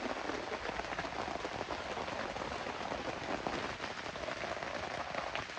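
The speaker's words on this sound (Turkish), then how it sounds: "sabaha kadar yağdı inanın ama hala da yağıyor" Steady rain pattering on a camping tent, a continuous dense hiss of drops with no voices, fairly soft and unchanging.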